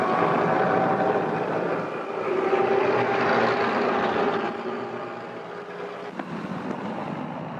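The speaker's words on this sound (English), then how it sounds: "Lufthansa Junkers." Lufthansa Junkers airliner engines at a 1935 airport give a loud, steady drone that fades slightly in the second half of the clip.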